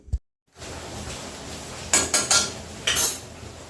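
A spoon scrapes and clinks against a metal kadhai in a few quick strokes, stirring sugar into syrup with ghee for gulab jamun, over a soft background hiss.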